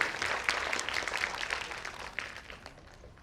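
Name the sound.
audience applauding the dancers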